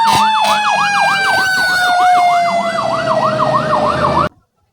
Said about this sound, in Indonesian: yang ini mobil truk pemadam kebakaran.